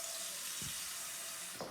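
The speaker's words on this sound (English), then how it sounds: "And then you are going to put a little bit of water in there." Water poured in a small splash into a cooking pot, a steady watery hiss with two brief low splashes, close and fairly faint.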